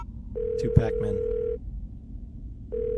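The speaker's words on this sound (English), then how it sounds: "それともここは携帯で応援を入れよう" A mobile phone dials for backup in the Dark Tales: From the Lost Soul video game: a steady electronic tone sounds for about a second, stops, then returns at the end, with a voice speaking over its start.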